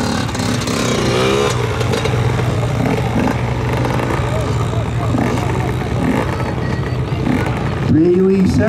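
A small four-stroke motorcycle climbs a dirt hill during an uphill race at Sturgis, its engine droning steadily and loudly throughout while spectators shout and cheer over it.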